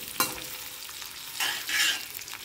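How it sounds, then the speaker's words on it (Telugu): Finely chopped onion and green chillies sizzling in a pan for a fenugreek-leaf and coriander curry, a soft hiss broken by a few stirring scrapes and clatters, with no voices. "సన్నగా తరిగిన ఆనియన్, ఇంకా పచ్చిమిర్చి రెబ్బలు వేసేస్తున్నాను. ఇది కొంచెం బాగా వేగాలి."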